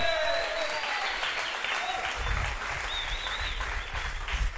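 A church congregation applauds steadily throughout, a dense wash of clapping with some voices mixed in, fairly loud and sustained.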